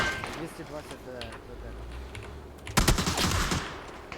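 Rapid bursts of video game gunfire crackle through the clip, growing louder near the end, while voices speaking Ukrainian and Russian talk over the shooting.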